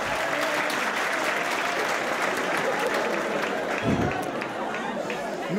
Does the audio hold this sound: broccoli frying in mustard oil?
no